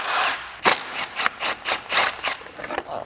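Hand tools work on the side covers of a Lexus, a quick series of ratcheting clicks and plastic rattles, close and fairly loud with no talking.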